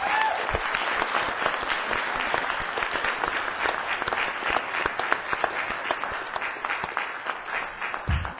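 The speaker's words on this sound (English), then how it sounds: "A round of applause for these individuals." Audience applause in a city council chamber during an awards recognition, steady, moderately loud clapping from a modest crowd with distinct individual claps standing out throughout.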